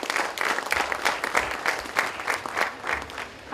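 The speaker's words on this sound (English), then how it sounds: "A round of applause for our children for the final time." Steady audience applause fills a school event for children: dense, continuous clapping from many hands, close and full, holding evenly throughout without talk.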